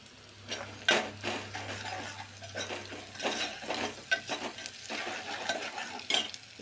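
Ginger garlic paste browning in a pan and stirred with a spoon, a soft sizzle broken by repeated scraping and clinking strokes against the metal, close and uneven in rhythm.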